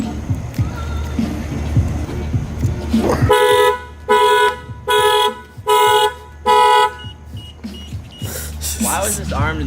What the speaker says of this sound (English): the alarm still works